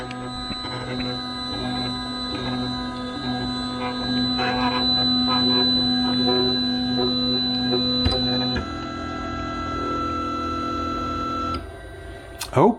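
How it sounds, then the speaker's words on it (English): A 3D printer in a print farm homes its axes, its stepper motors whining in steady tones that shift pitch as each axis moves, ending with a brief clunk. "we'll home this printer"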